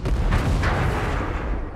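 A vehicle explodes in the video game Ghost Recon Breakpoint: a loud, close, deep blast that keeps rumbling for nearly two seconds with no talk over it.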